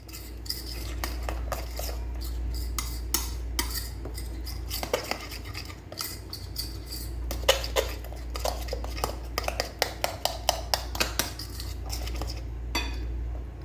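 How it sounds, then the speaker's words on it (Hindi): Fish fry ingredients being stirred in a bowl, with repeated clinks and scrapes of a metal utensil against the dish, steady and close, growing denser toward the end under a low constant hum. "इसको अच्छी तरह मिक्स करेंगे हम लोग।"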